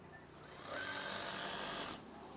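A sewing machine stitches curtain fabric in one steady, close whirring run of under two seconds, starting and stopping cleanly with no talk over it.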